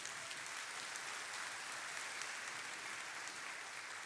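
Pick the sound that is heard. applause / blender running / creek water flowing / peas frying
applause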